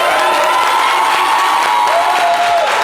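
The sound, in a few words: audience applauding a guest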